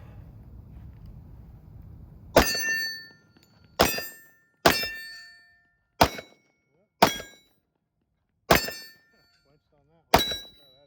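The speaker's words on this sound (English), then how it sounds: "Definitely loving the 10mm that I'm gonna go ahead and fire off right now." A Smith & Wesson 10mm pistol fired seven times outdoors, each shot a sharp loud crack with a brief decaying tail, spaced irregularly about one to two seconds apart after a faint low rumble.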